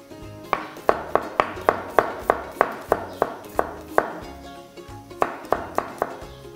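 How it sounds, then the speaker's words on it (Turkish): Knife chopping garlic finely on a board, a steady run of crisp, evenly spaced taps in two bursts with a short pause between, close and clear with no talking. "Soğanlarımızı doğradıktan sonra sarımsaklarımızı da yine aynı şekilde küçük,"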